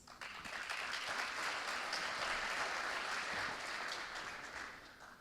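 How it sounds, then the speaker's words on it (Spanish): A crowd applauds steadily, a dense wash of clapping that swells quickly and holds for several seconds before tapering off. "Fuerte ese aplauso"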